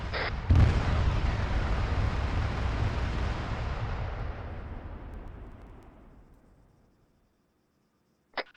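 Explosive charge detonating during training, a sudden heavy boom that rolls into a long rumble, fading gradually over several seconds into silence before a brief sharp click at the end.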